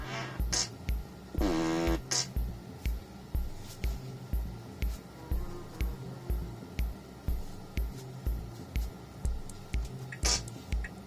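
A Tesla Model Y's emissions-tester novelty plays a long, wet fart sound effect, loud and close, with a rhythmic, squelchy pulsing that repeats steadily throughout.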